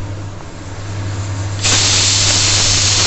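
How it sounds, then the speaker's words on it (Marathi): Onion frying in a pan for chole masala gives a steady hiss that jumps to a louder, brighter sizzle partway through, heard close and alone with a constant low hum behind it. "आता तोपर्यंत मी हा कांदा व्यवस्थित भाजून घेते"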